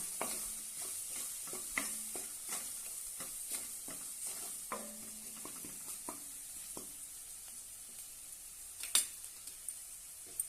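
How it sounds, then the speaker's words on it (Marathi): Chickpeas and potatoes with black masala are stirred in a hot oiled pan, a soft sizzle underneath repeated scraping clinks of a spoon against the metal, close and quiet with no talk. "अर्धा चमच काळा मसाला छानपैकी परतून घेऊया"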